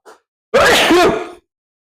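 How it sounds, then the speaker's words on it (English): A man sneezes once, loud and close, a short sharp intake followed by an explosive burst that tails off, with a faint small sound just before. "I'm going to sneeze."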